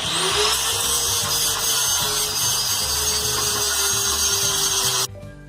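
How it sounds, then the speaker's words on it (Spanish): An angle grinder smooths the seam of a practice weld joining metal pieces, a loud, continuous high whine held for about five seconds before cutting off sharply. "Le voy a pasar la moladora y para emprolijar la costura"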